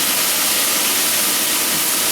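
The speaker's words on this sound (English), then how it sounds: "Now I'm going to deglaze the bottom of the pan." Liquid hits a hot pan during deglazing for a steak and ale pie, giving a loud, continuous hissing sizzle of steam that holds steady and close.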